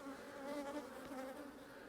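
Honey bees at a beekeeper's hive, including a queen, making a continuous close buzzing drone that stays faint and steady with no voices.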